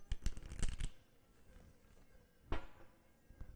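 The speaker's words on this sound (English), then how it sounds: "So I'm shuffling up the cards." Mythic Tarot cards being shuffled by hand in quick riffling bursts, close and crisp, with a pause before a shorter second shuffle.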